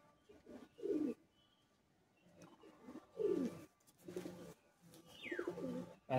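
Pigeons in a loft cooing in several separate bursts of low, throaty calls, fairly close and distinct over a quiet background, with no speech.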